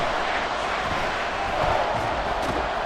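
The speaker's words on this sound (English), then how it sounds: "This crowd turning up the decibel level." A stadium crowd in an American football video game roars in a dense, loud, steady wash of cheering noise that swells slightly partway through, with no clear talk over it.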